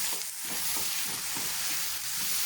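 Vegetables for mixed fried rice being stirred and tossed in a hot pan, a constant hiss of sizzling oil with soft scraping movements underneath, close and even with no talking.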